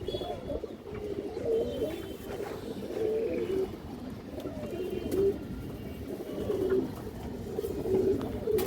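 Pigeons coo steadily at a Bangladeshi pigeon farm where pairs are offered for sale, with overlapping low, rolling calls repeating throughout at close range and no talk.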